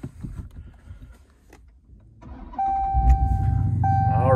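A 2018 Dodge Challenger R/T 392 with its 6.4-liter V8 starts up. After quiet clicks comes a sudden catch, then a loud, steady idle rumble close by with a chime ringing over it.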